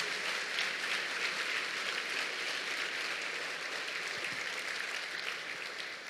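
Steady audience applause fills a church service during a Portuguese-language sermon, a dense, continuous wash of clapping held at an even, moderately distant level throughout with no talk over it.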